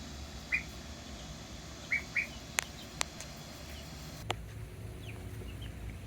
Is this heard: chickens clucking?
yes